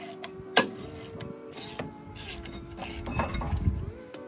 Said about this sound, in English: I'm just gonna crank this bitch on there until it pops off.